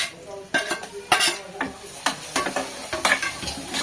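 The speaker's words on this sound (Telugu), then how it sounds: "అయితే ఇలా లైట్గా ఫ్రై చేసేసుకుంటాను" Biryani masala with kasuri methi lightly frying in a pan for egg biryani, a gentle sizzle broken by repeated scraping and clinking of a spoon against the pan, close and uneven.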